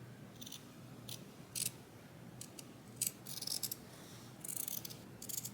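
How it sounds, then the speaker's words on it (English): Scissors snip through fabric to cut open a welt pocket. The short crisp clipping bursts come in irregular groups over a soft steady hiss, close and quiet, with no talking. "Now it's time to cut the pocket open."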